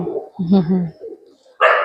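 A low coo from pigeons feeding at a temple rises briefly and close, between soft murmurs, followed by a short sharp noise at the end.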